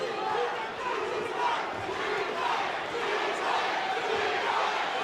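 Boxing arena crowd roaring in support of a fighter during a championship bout, a continuous, loud wall of cheering and shouting with no clear breaks.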